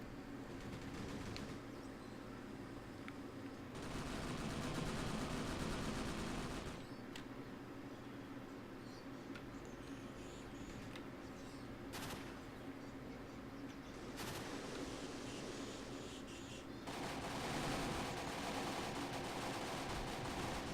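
Dense, continuous gunfire in the Angolan Civil War combat game, with sustained bursts and rattling shots blending into a steady battle din that swells at intervals, no talk.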